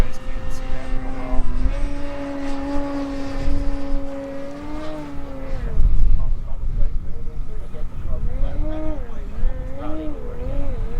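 Sebart Extra SX 61-inch 6s electric RC aerobatic plane in flight, its propeller whine rising and falling in pitch as it passes and maneuvers at moderate distance, with a person talking over it.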